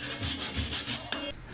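A small wooden ornament is rubbed flat on a sheet of sandpaper laid on a bed. Close, steady rasping strokes repeat in an even rhythm, then end with a brief tap.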